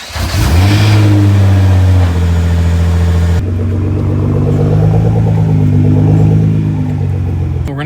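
A modified Nissan GTR engine cranks and fires for the first time, then settles into a loud, steady, close-up idle with a deep droning rumble and no talk.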